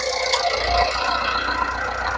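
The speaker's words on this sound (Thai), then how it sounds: "นี่เครื่องยนต์เดินเรียบๆแบบนี้เลยครับ" A modified Mitsubishi Triton pickup engine idles smoothly and steadily, a low continuous hum with slight rattle heard close by, no talking over it.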